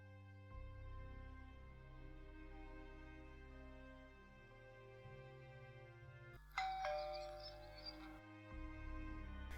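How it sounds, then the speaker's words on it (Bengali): An electric doorbell rings once with a clear ding-dong partway through, set against a quiet indoor scene with a low background drone of soft music. "দেখো না, কে আবার কলিং বেলটা বাজায়।"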